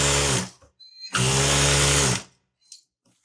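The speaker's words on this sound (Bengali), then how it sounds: "এই তারপর একটা সেলাই মেরে দিলাম" An electric sewing machine stitches a Saudi jubba, its motor whirring in two close bursts, a short run and then a longer steady one, with a faint click after.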